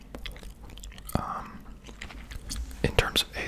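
Gum chewed close to the mic during an ASMR ramble, with soft wet smacks and clicks scattered throughout, under and between quiet whispered talk.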